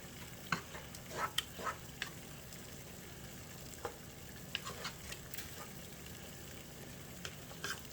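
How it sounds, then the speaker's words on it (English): Parmesan cheese is gently stirred into spaghetti meat sauce in a pan, a faint low simmer under a few soft spoon scrapes and light taps, quiet and close with no voices. "we're gonna add a half a cup of Parmesan cheese. Stir that in"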